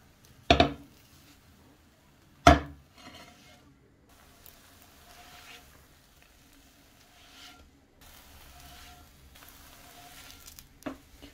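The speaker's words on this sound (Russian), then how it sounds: "Блинчики распределяю по сковородке и обжариваю с двух сторон." Cabbage pancakes frying in a pan give off a faint, steady sizzle. Two sharp clinks of a utensil against the pan stand out near the start, with a softer knock near the end.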